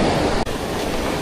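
Strong ocean waves crash against a rocky shore during a fishing outing, a loud, close roar of surf with a brief dip partway through.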